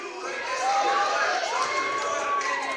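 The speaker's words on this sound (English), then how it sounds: "You can hear the crowd really excited about this match." A spectator crowd at a high school wrestling dual meet cheers and shouts steadily in an indoor gym, a sustained excited roar with individual yells rising above it.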